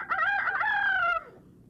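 A rooster crows once in a single loud, drawn-out cock-a-doodle-doo, heard alone and up close with no talk, for a barnyard children's story.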